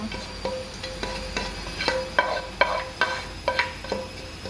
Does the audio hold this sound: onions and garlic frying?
yes